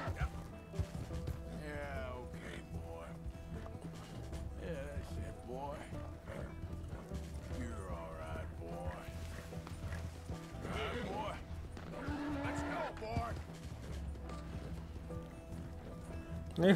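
A horse gallops in the open-world western game Red Dead Redemption 2, its rhythmic hoofbeats running steadily throughout with occasional whinnies, while someone talks over it almost constantly.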